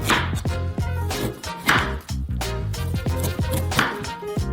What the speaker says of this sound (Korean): 불필요한 살을 자르고 냉동 베이컨을 잘라서 접시에 놓은 다음